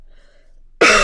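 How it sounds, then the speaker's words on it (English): A single harsh cough bursts out abruptly near the end after near silence, close and loud, from a person playing a Minecraft survival game. "I'm coughing it up today."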